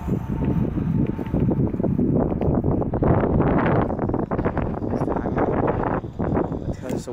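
Strong wind buffets the microphone outdoors near a schoolyard with a hanging bell, a steady, loud rumbling roar that carries on for several seconds.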